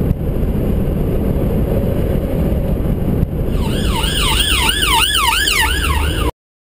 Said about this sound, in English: I stopped to let the ambulance by.